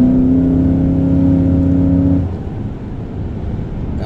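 Supercharged Chevrolet Suburban engine revving hard, a loud sustained whining tone with the supercharger whir riding on top that drops off after about two seconds into a rougher, lower idle.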